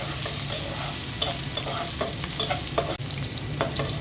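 Sliced onion and a few potatoes frying lightly in oil, a continuous close sizzle with scattered crackles and the clink and scrape of a stirring spoon, no voices.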